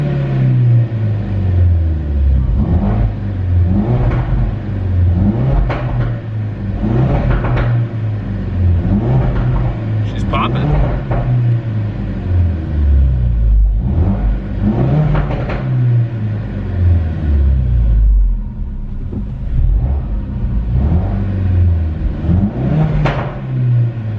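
A stage 2 Ford Focus RS pulls hard with loud, rising engine and turbo intake noise, repeated surges of revving and whooshing induction sound close to the microphone, with no talking.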